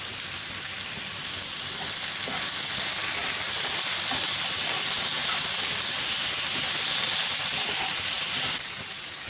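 Carrots and potatoes fry in a pan with turmeric and salt stirred in, giving a steady, loud sizzle and hiss that swells slightly midway and continues throughout with no voices.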